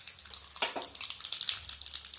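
Mustard seeds crackle and sizzle faintly in hot oil while khandvi bhaji is being cooked. The quiet, bright popping is patchy and close, with no talk over it.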